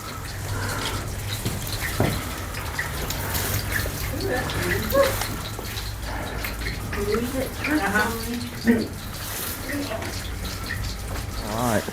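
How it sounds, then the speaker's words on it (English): Water dripping and trickling inside an old railroad shelter in Missouri's Rock Bridge State Park, a steady wet wash with occasional brighter drops, while faint voices murmur in the background. "Got some water dripping in here."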